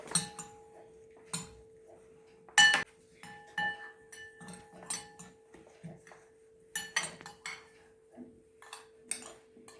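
A spoon stirs onion and sprouts in a bowl for a fireless cooking activity, with irregular light clinks and taps against the dish, close and sparse, under a faint steady hum.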